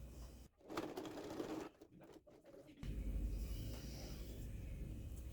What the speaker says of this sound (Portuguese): vou costurar essa parte aqui